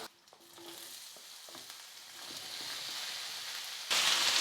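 Chopped ivy gourd sautéing in a pan with garlic, dal and curry leaves: close sizzling with scattered scraping stirs, the sizzle swelling steadily and jumping louder near the end, with no talking.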